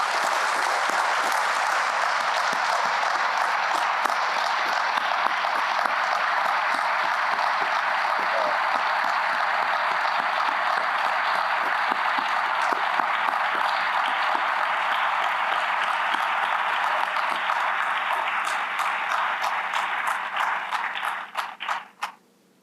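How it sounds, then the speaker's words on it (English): Long, sustained applause from an outdoor crowd at a military women's memorial anniversary ceremony, dense and even before tapering off and fading out at the end. "Let's give her another round of applause."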